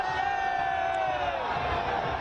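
Dense crowd noise fills the street during the Prime Minister's road show from Maldahiya to Kashi Vishwanath Dham in Varanasi, a steady, loud roar of many voices with scattered cheers and shouts throughout.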